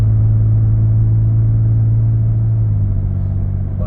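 A 2024 Ford Ranger Raptor pickup accelerates gently on a rural drive, its engine a steady low rumbling drone that holds constant with no speech.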